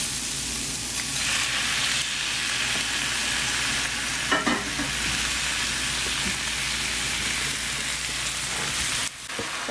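Prawns sizzle steadily in a hot pan for a Kerala shrimp roast, a dense continuous hiss with brief stirring scrapes partway through, close and loud.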